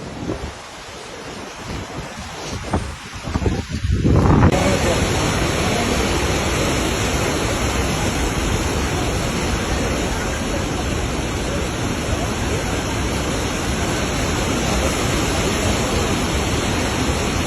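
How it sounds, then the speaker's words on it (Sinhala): A flooded river below the Moragahakanda dam in Sri Lanka roars with a loud, continuous rush of water, broad and unbroken, mixed with wind buffeting the microphone after a quieter start. "මේ ගඟ"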